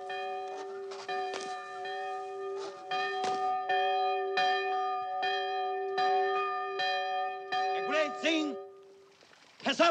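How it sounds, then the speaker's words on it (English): Church bells ring out over Montefalcone, an Italian hill town, with loud, sustained, overlapping tolls layered in a steady ringing rhythm and brief voices near the end. "I want to ring the bells!"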